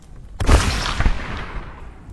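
A shotgun blast in a French audio drama, fired with the muzzle pressed into a man's mouth: a sudden loud, close crack with a rumbling tail and a second burst soon after, no voices.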